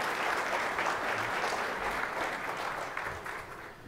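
Audience applause at a September 2017 luncheon welcoming aviation executive Mark Dunkerley, a steady wash of many hands clapping throughout, moderately loud and unbroken.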